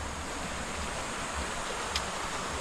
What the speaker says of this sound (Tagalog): Ayan, may ilog dito.